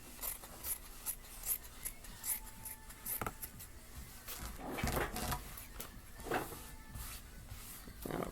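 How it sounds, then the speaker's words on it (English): Scissors snip through skirt fabric in a series of quiet, short cuts with irregular rhythm, close and faint, accompanied by light rustling of the cloth being handled. "I'm going to go ahead and cut this here like that"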